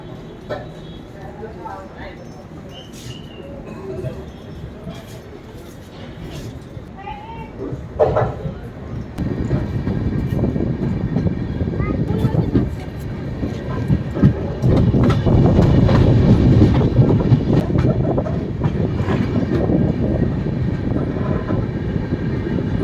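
The Darjeeling Mail train pulls out of Kishanganj station. Its quiet rumble swells into a steady, heavy rolling clatter of wagons as it gathers speed, with someone speaking over it early on.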